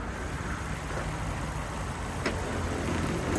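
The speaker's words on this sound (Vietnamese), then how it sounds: "máy nổ êm ru không nghe tiếng động anh em." Low, steady rumble of a 2014 Chevrolet Aveo's mostly original engine idling quietly nearby, an even hum with a faint broadband hiss and no talking.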